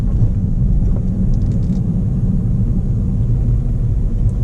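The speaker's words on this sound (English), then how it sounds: "We're driving around the parking lot in third gear." Loud, continuous low engine drone of a manual car cruising in third gear around a parking lot, steady and unbroken with no talking.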